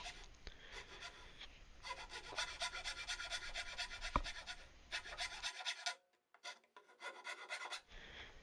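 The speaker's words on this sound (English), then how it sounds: "run the file into the corner to clean up some of the bits of material that were left over from using the drill and the jigsaw" A hand file rasps along the cut edges of a window opening in a model building, close and steady, with long runs of rhythmic strokes separated by brief pauses.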